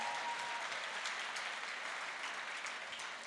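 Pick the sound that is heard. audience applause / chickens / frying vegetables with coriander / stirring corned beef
audience applause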